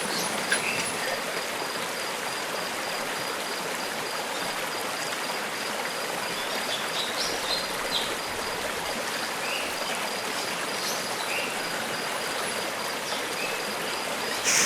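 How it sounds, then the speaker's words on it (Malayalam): Steady, dense hiss of rain falling continuously, even and unbroken throughout, with no voices. "അപ്പം മഴ പെയ്തു."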